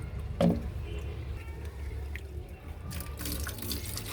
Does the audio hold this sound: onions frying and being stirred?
no